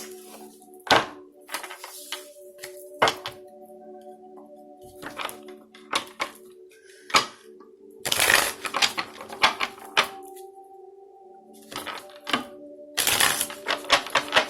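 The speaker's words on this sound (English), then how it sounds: "At least when I type it out, I can see what I'm doing" Typing on a keyboard during a tarot card reading, in bursts of close, sharp key clicks separated by pauses, with no voice over it.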